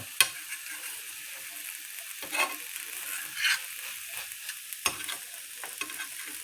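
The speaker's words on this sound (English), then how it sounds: "I'm gonna let those eggs cook for a while" Eggs frying in a skillet for a breakfast sandwich give a steady, moderate sizzle throughout, broken by a few sharp spatula taps and scrapes spaced irregularly.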